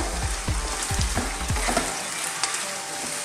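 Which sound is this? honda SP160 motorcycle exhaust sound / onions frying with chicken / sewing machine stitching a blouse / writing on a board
onions frying with chicken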